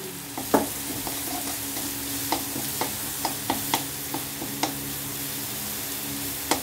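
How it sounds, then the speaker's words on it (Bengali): A paste of ginger, garlic, green chili and black pepper fries in a pan for a village-style Bengali ghetkol stalk dish, with a constant sizzling hiss punctuated by regular sharp taps and scrapes of stirring. "একটু কষাতে হবে।"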